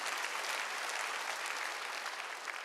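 A church congregation at a Wednesday worship service claps together in dense, continuous applause that fills the room evenly for a few seconds.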